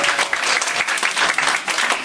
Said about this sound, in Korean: 수준에서 박수 한번 쳐주세요